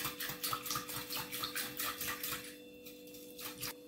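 Rhythmic scraping and clinking of a utensil stirring a yeast mixture in a bowl until dissolved, quick repeated strokes close up, faint and with no talk.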